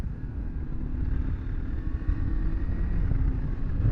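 A Kawasaki Versys X300 motorcycle engine droning steadily at low revs in fifth gear while riding at about 35 mph, with a continuous low rumble and wind noise.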